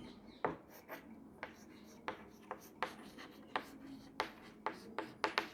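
Writing on a board during a classroom lesson, a series of quiet, sharp strokes and taps spaced irregularly, with faint room tone and no clear talk.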